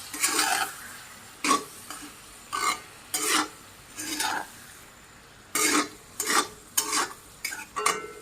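Local meat being stirred and mixed in a frying pan, with a spoon scraping the pan in short, repeated strokes and faint sizzling between them; close and clear, with no talking.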